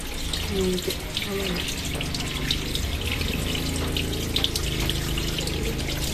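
Steady running tap water pours through a strainer as mung bean sprouts are rinsed, a continuous splashing rush with some clattering and a low hum underneath.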